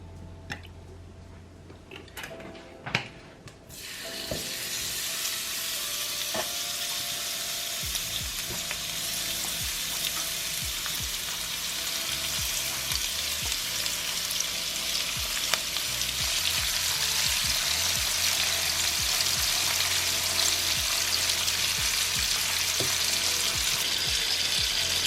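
Salmon and shrimp frying in oil in a hot skillet, a steady, close broadband sizzle that swells after a few quiet seconds of handling and stays loud and even throughout.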